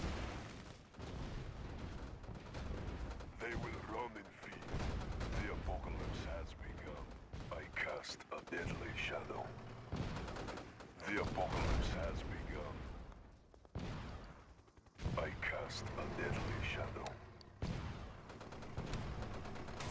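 A base attack in the video game Red Alert 2 brings dense, rumbling volleys of gunfire and artillery booms, with heavy blasts rolling on almost without pause and brief lulls between bursts.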